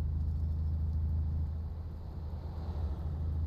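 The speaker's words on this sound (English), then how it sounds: "Still, I get to hear the sound of the engine." A truck engine runs steadily in Euro Truck Simulator 2, a low continuous droning rumble heard from the cab, quiet and unbroken throughout.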